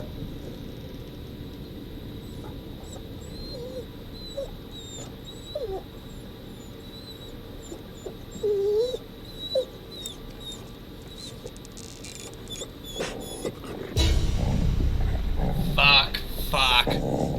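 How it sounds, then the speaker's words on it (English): Puppy whimpering and crying in the Devil in Me video game, thin high whines repeating over a quiet ambient bed, followed by louder rustling movement near the end. "Anyone else hearing a puppy cry?"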